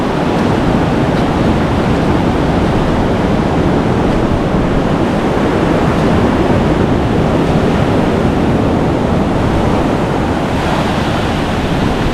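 Ocean waves surge onto Hawke's Bay beach in the rain, a loud, continuous broadband roar of surf with wind noise buffeting the microphone throughout, no voices.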